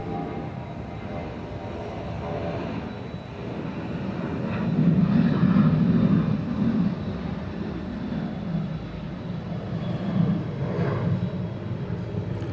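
Delta 767-300 heavy jet taking off at Atlanta airport, bound for San Francisco, a broad roaring engine rumble that builds and swells mid-clip, steady and moderately distant, with no voices.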